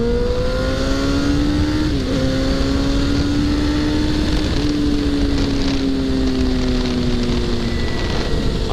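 A motorcycle engine pulls away as the throttle is twisted, its droning, slightly rising tone steady and close over wind rush, with no talking.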